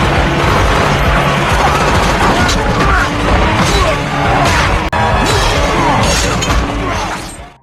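Dense, continuous gunfire and blasts from a film battle scene as an assault hits a mafia boss's headquarters, loud and sustained throughout with bursts, crashes and a brief dip near the middle before fading at the end.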